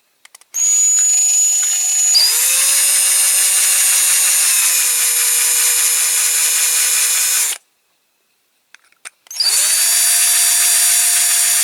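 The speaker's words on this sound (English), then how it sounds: "Slightly bigger drill bit needed." Power drill boring into a die-cast Dinky Toys 30V NCB electric van with a slightly bigger bit, a loud steady whine that rises in pitch, cuts out briefly, then restarts near and alone.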